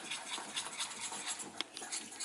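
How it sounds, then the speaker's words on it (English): Coconut milk is whisked in a bowl, producing faint, quick, rhythmic scraping and swishing strokes of the whisk against the bowl. "I'll just whisk that up."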